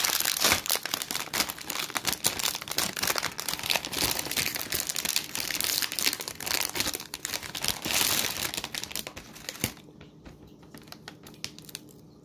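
A plastic package of Benton's chocolate chip cookies crinkles and crackles loudly and close up as it is opened, a dense run of sharp rustles that thins out near the end.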